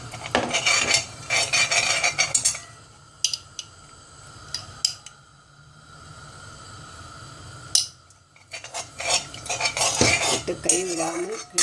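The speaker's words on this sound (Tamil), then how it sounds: "கைவிடாமல் ஒரு 10 நிமிஷம் கிளறவும்" Metal spoon scraping and clinking against a pan while stirring traditional Diwali marunthu legiyam with ghee and honey, in repeated close bursts of clatter separated by quieter gaps.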